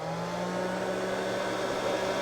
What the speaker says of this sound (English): So the hairdryer's on,